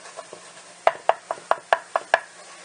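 A utensil scrapes and knocks through a roux in a pan for steak gravy, giving about ten short, sharp strokes in an uneven rhythm, close and fairly loud with no talking.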